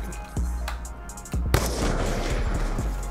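Gunshots fire in Black Ops 2, several sharp, loud blasts spaced irregularly across a few seconds. Each one booms close by, and the heaviest report is followed by a lingering rumble.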